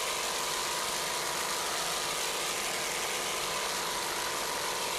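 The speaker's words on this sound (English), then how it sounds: "Just listen to those Zool racing engines" Zool racing engines on offshore powerboats roar in a dense, unbroken drone during a 1993 race on Lake Erie. The sound is loud and continuous, with no talk.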